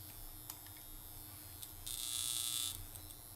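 An electric skincare device fitted with a mushroom head attachment buzzes for about a second, a faint, steady whir set against a quiet room.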